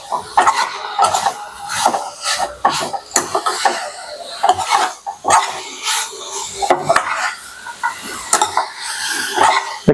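Metal utensil scraping and clattering in a pot of chicken gravy, busy and close, with repeated sharp scrapes and knocks throughout.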